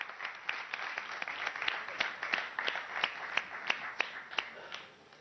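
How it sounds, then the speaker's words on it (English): Scattered, fairly sparse hand claps from an audience at a staged CNBC TV18 event, as a company CEO is welcomed onto the stage; the claps come in a loose, steady rhythm, moderately close and not very loud. "A big round of applause for him."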